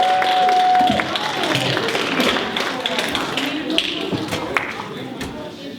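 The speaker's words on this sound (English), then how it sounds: "Let's welcome him with a big round of applause," A live audience claps and cheers to welcome a poet onto the stage, a dense wash of applause with scattered sharp claps that fades a little over several seconds.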